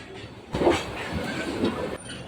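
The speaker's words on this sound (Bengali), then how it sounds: "কিছুক্ষণের মধ্যে আমাদের ট্রেন চলে আসলো ঢাকা এয়ারপোর্ট রেলওয়ে স্টেশনে" The Jamalpur Express train rolls into Dhaka Airport railway station with a low rumble and faint metallic rattling that swells briefly, then holds steady before easing off.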